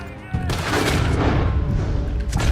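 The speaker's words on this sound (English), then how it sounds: "Who the hell has just shot me?" Gunfire from a pair of Volcanic pistols, fired dual-wielded, in Red Dead Redemption 2, loud, close and rapid, cracking over a rumbling background with little pause between shots and a fresh burst at the end.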